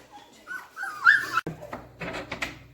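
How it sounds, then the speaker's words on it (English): Newborn puppies only hours old whimper and squeak in a series of thin, high whines, close by, with a brief sharp knock midway and soft rustling, no talk. "So this is Pepsi, our 3rd litter of puppies that we have at the moment. These are literally hours old."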